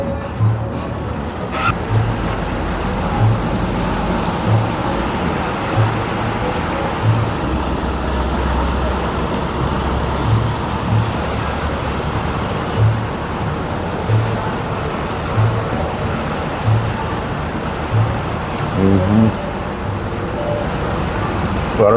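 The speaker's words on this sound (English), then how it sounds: "I don't know if you can hear it now, but it's raining." Steady rain falls outdoors at a Cedar Park, Texas barbecue spot, a continuous wash of hiss with passing traffic rumble, a faint rhythmic low thumping, and brief distant voices.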